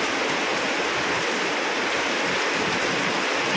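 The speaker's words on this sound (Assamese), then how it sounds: "বহুত বেয়াকৈ বৰষুণ দি আছে" Heavy rain pours down in a dense, unbroken roar, loud and close, like a steady downpour flooding everything around during an evening Bihu festival.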